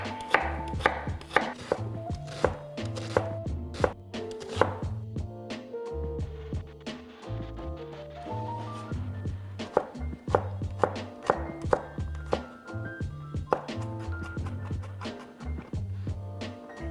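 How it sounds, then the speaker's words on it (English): A small yellow onion is chopped with a knife on a board, a steady run of crisp close taps in quick rhythm, heard over soft background music. "Small yellow onion chopped."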